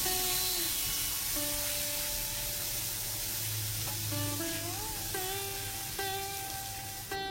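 Black cumin seeds and garlic paste hit hot oil as the tempering for a bata fish curry, producing a faint, even sizzle. Low sustained tones run underneath.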